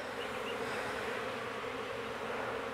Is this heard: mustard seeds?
no